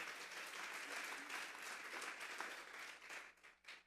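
Loud, sustained applause fills a church congregation during a Christian sermon, dense clapping from many hands that holds steady before thinning near the end.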